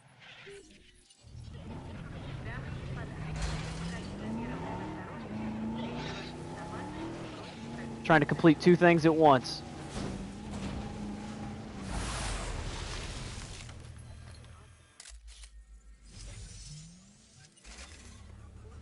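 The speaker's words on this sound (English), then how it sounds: "I just drove my car in the lake." In the video game Jurassic World Evolution, a car engine hums while a person talks, then a short burst of crashing, splashing noise as the car drives into a lake, before the engine fades and a quiet pause.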